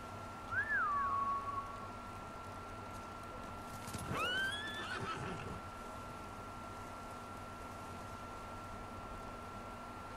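Horses neigh in the Ghost of Tsushima video game, with two shrill, rising whinnies several seconds apart over a faint hum and soft ambient noise. No voices are heard.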